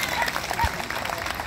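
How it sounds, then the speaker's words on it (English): Applause from an outdoor audience after an Irish dance performance at a multicultural day in a town center, a brief soft wash of clapping blended with crowd murmur and voices. "give her another round of applause."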